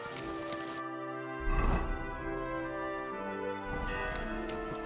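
Rain falls steadily in the medieval video game Kingdom Come, a continuous patter layered under sustained musical tones, with no talking.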